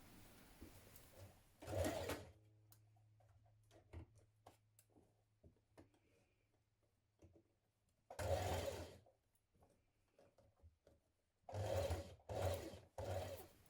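A sewing machine stitches a dress neckline in short bursts, one early, one midway and a quick cluster of three near the end, with quiet handling between them.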